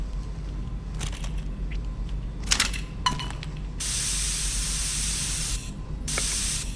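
Oil sprayed from a can while cleaning a gun in Into the Radius 2, a few clicks and short handling knocks followed by two long, close hissing sprays separated by a brief pause.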